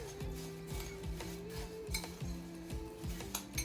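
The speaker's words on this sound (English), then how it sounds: "And you stir your butter up in there." Melted butter stirred into crushed Ritz crackers in a dish, with a spoon scraping and clinking against the container in a quick, steady rhythm, up close and with no talking.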